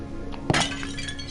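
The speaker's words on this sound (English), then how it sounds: "you can smash pots and pans to check inside them" A clay pot smashed in Amnesia: The Dark Descent, a single sharp crash with a brief rattle of shards, close and loud over a low droning background.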